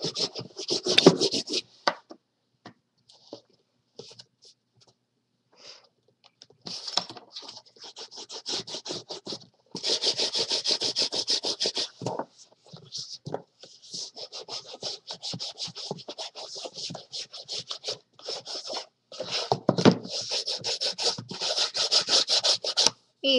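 Paper being rubbed and smoothed by hand onto a suitcase for a shabby chic makeover, with the edges worked firmly. Close, dry, repeated rubbing and scratching strokes come in bursts with short pauses between them, and no talk is heard.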